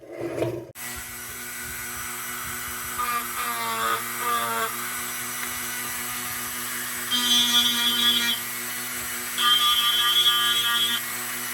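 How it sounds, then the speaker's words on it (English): A polishing wheel spinning during restoration of an Embury Defiance No. 0 lantern, a steady high whine that starts abruptly and runs throughout, rising into harsher screeching bursts whenever metal is pressed against it. "Ooh, that polisher wheel has gotten hard."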